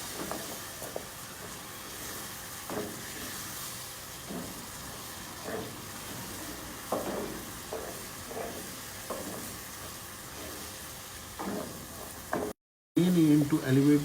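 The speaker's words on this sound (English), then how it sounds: "Now it's time to add our eggplant." Eggplant stirred into a sizzling pan of spices and water, a steady frying hiss with repeated soft scraping strokes of the spoon, close and fairly even, briefly cut by a gap before a voice near the end.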